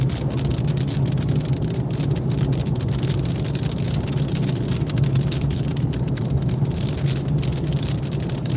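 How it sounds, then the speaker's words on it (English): Steady rain during a storm chase on country roads in Oklahoma, a dense continuous hiss close by, mixed with a low rumble that sounds like a car moving, with no talking. "Right now we're getting the rain."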